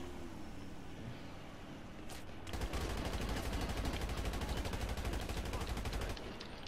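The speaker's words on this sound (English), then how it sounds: "See your gunshots in the background." Rapid bursts of gunfire rattle continuously under steady background noise, like automatic weapons in a game, loud and sustained for several seconds.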